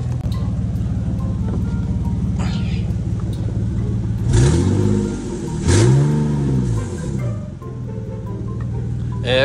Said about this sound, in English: I'm gonna rev it up real quick and see if there's any type of leakage